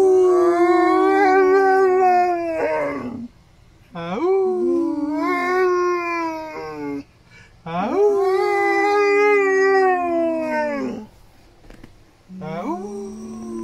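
Dogs howl loudly and close by in long sustained wavering howls, about four drawn-out phrases separated by brief pauses.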